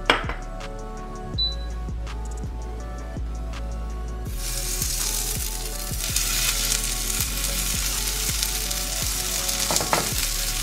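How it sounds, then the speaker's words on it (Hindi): Oats tikki frying in ghee in a pan give a steady close sizzle with sharp crackles and ticks throughout, the hiss growing fuller and louder partway through. "ओके, सो ये रहा मेरा पैन, इस पर मैं लगा दूंगी थोड़ा सा घी।"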